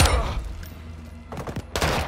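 Bursts of rapid Call of Duty video game gunfire crackle loudly, one at the start and more volleys near the end, with a lull of ambient noise between.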